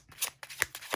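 Tarot cards being shuffled and drawn up close, four quick, soft riffling snaps within a second.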